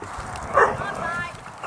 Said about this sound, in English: Dogfight, dogfight.